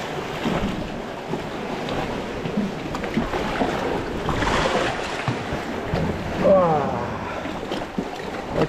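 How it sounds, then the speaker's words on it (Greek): Sea waves roll in and wash against the shore on a blustery fishing outing, a steady broadband surge with wind buffeting the microphone throughout, no speech. "Το μεταξύ έρχονται και τα κύματα"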